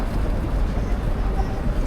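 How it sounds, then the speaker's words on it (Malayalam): Steady low rumble of a Viking Line ship on the crossing from Helsinki to Stockholm, a continuous drone with wind buffeting the microphone and faint voices under it. "ഇതാണ് നമ്മുടെ ഷിപ്പ് കേട്ടോ"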